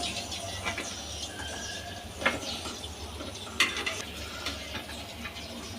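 A milk and semolina sweet is stirred through hot sugar syrup, giving a soft, steady scraping and sloshing with a couple of sharper clinks of the spoon against the pot, close and fairly quiet with no talk.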